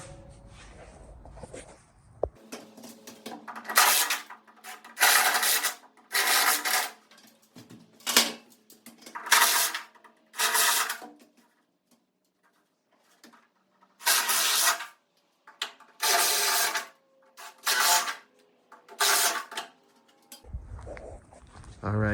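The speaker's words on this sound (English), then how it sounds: "And this drilling holes is like hundreds of holes to be drilled." Power drill boring hundreds of holes for fence building, repeated bursts of a few seconds each, loud and close, starting and stopping with short silent gaps between.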